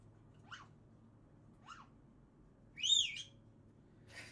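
A pet parrot gives two short, rising chirps, then a louder, drawn-out shrill scream, with a brief noisy burst at the end, close by in an otherwise quiet room with no talking.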